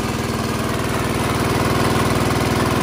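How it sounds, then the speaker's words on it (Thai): A 6.5 horsepower gasoline engine driving a water pump runs at a steady idle, its fast, even chugging close and unbroken, with no talk over it. "เครื่องยนต์เบนซินนะครับ"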